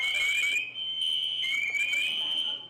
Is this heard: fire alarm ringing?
yes